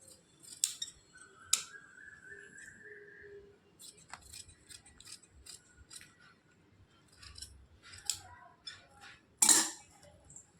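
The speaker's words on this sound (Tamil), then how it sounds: "கரெக்டாக இந்த மாதிரி வச்சு நம்ம கட் பண்ணி எடுத்துக்கலாம்." Scissors snip through silk fabric to cut leaf shapes for a blouse design, with several short crisp cuts and clicks spread over a quiet background, one louder snap near the end.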